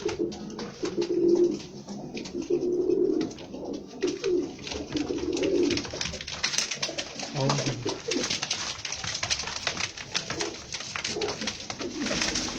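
Teddy pigeons keep up a low, rolling cooing nearby, strongest early on, while people talk over the birds in the later part.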